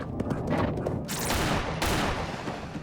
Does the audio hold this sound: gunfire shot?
yes